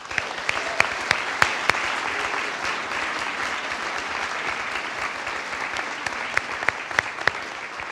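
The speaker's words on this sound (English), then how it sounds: "I just want you to help me join in offering her thanks and a huge round of applause" An audience at a high school senior awards night gives a round of applause, a steady bed of clapping with several sharp, distinct claps from nearby hands standing out at irregular moments.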